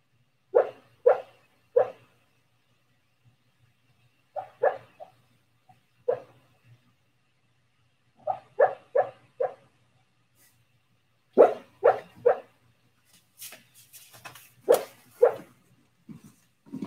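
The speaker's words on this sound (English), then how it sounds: "my dog was barking in his sleep" A dog barks in its sleep, giving soft, muffled woofs and yips in short bursts of two or three, separated by quiet pauses, close by in a quiet room.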